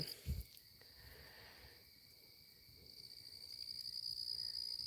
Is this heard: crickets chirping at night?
yes